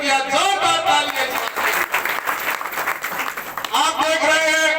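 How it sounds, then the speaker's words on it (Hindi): An audience at a village gathering honouring a sarpanch's building work breaks into loud applause in the middle, with voices speaking or chanting over it at the start and end. "जोरदार तालियां"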